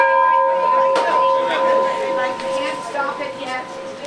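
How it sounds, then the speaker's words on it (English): A bell rung for the Fourth of July gives a clear sustained tone with a few fresh strikes, its ring lingering while people talk nearby throughout. "last call to ring the bell."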